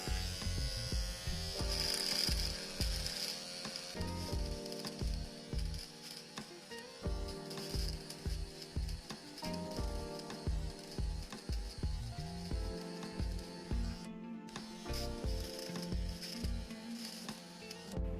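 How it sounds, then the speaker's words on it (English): An electric razor buzzes as it shaves hair with repeated up-and-down strokes, the motor's hum rising and dipping in a close, rhythmic pattern that runs throughout with no one speaking. "I'm sure you heard the sound, how it's removed everything"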